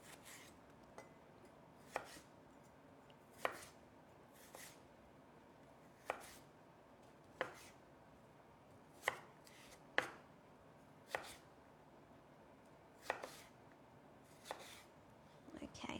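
Knife chopping celery into small pieces on a board, a steady series of sharp, distinct chops spaced roughly a second apart, close and clear with quiet background in between.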